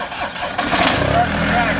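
A tractor engine cranks on the key and catches, sputtering up into a rough running rumble, close and loud, with a voice speaking over it.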